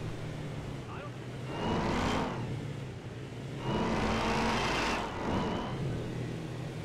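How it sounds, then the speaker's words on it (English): A Mercedes-Benz G550 engine in GTA 5 roars loudly in two long revving surges over a constant idle rumble. "I already know this engine stupid loud."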